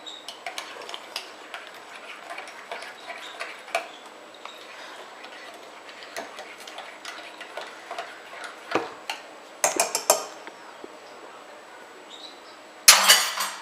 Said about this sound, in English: let me stir this up real quick